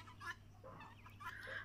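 Chickens cluck softly on a poultry farm where guinea fowl and turkeys are kept together, with a few short, irregular calls over a faint low hum and no talking.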